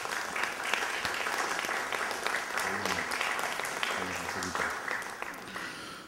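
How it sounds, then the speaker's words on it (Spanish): Audience applause for guests at a student council election ceremony in the Municipality of Miraflores, continuous dense clapping from a crowd with faint voices mixed underneath. "Para ellos, el aplauso de todos ustedes,"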